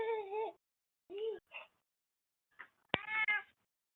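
Quiet, close meows from a cat, a few separate calls with gaps of silence between them, the last one louder and preceded by a sharp tap.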